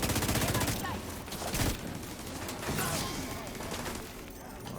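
Minigun firing in the video game The Division 2, a dense rapid burst of gunfire that fades into sparser shots and crashes, with players' voices faintly underneath.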